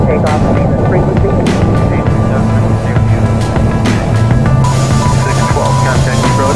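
The Boeing 747-400's jet engines roar steadily and loudly, heard from inside the aircraft during the takeoff roll, with faint radio chatter underneath.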